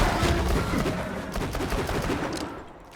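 Rapid automatic gunfire in the video game Borderlands 2, a dense, continuous rattle of shots that fades slightly toward the end.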